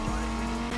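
BMW Z4 drifting on a racetrack in the video game NFS Heat, a short burst of steady tire squeal over a constant engine drone, loud and close.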